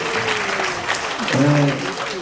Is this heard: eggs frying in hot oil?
no